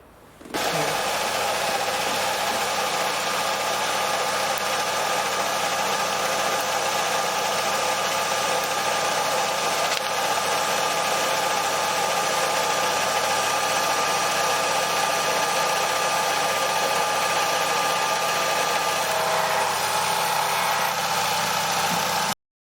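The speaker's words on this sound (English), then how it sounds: "let's go over to the lathe and have a look at the slide bolt being cleaned up" Lathe in a home garage turning a slide bolt during cleanup, a steady loud motor hum and whirring drone that starts abruptly, runs unchanged for over twenty seconds and then cuts off.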